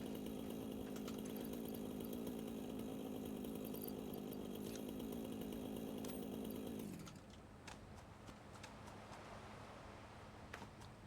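A chainsaw in the game Satisfactory drones loudly and steadily for several seconds, then cuts off abruptly, leaving a few faint clicks and low background noise.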